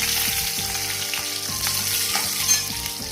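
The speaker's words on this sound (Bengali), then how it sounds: "মাছ ভাজা তেলের মধ্যেই সবজিগুলো ভেজে নেবো, তার জন্য দিয়ে দেবো একটু পাঁচফোড়ন" Vegetables fry in oil left over from frying fish, with panch phoron and green chilli. A steady close sizzle with light stirring clicks runs alone, and faint tonal sounds sit underneath.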